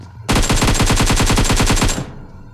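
Rapid automatic gunfire in a shooter video game set in a military base area, one loud sustained burst of about twenty evenly spaced shots lasting under two seconds, close and with nothing else over it.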